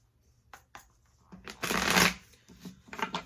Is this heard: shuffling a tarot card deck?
yes